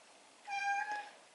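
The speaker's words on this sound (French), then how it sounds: "Là, c'est mon chat qui miaule." A single short cat meow, clear and tonal, rising then falling, heard alone against a quiet background.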